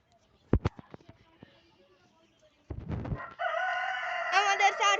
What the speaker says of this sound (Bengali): এই যে দেখেন এইগুলো টাইগার মুরগি।